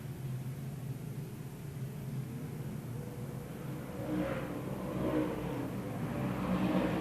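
Ford race cars run down the backstretch of an oval track at speed, a distant, steady engine roar that swells louder in the last few seconds.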